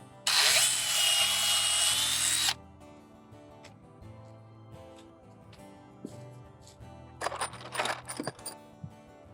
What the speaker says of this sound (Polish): Pod śruby podwiercamy sobie otwory.